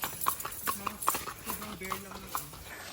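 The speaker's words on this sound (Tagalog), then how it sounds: "May horse!" A horse clip-clops along a trail on Mt. Makiling, a quick uneven series of hoof taps, close but fairly faint, with voices talking at the same time.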